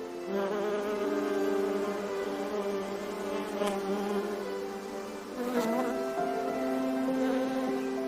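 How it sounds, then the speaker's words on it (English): Bees hum around flower beds and borders in a garden in late spring, a dense continuous buzz of several insects near at hand that shifts pitch as they pass, with no talking. "our flower beds and borders are abuzz with bees"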